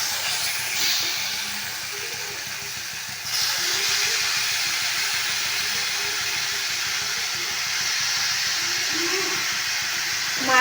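Shredded cabbage drops into a pan of spice paste with onion and ginger, fried until the oil separates. A steady frying hiss jumps noticeably louder about a third of the way in, then stays even.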